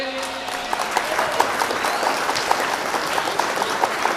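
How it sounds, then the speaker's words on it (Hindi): Audience applause at a mushaira, an Urdu poetry gathering with a welcome ceremony, continuous crowd clapping with sharper individual claps punctuating it in an uneven rhythm while a voice talks faintly over it. "तालियां बजाइए खुर्शीद हैदर साहब के लिए।"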